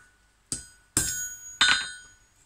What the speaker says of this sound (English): All centre punched.